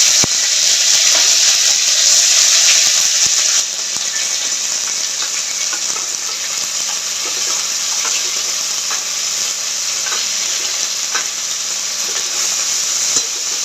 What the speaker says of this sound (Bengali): সাথে দুটো শুকনো লঙ্কা ফোড়ন দিলাম